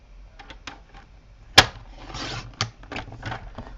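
A thin white border is trimmed off a handmade birthday card: one sharp click, then a short papery rasping slide, with light taps and rustles before and after, close and fairly quiet.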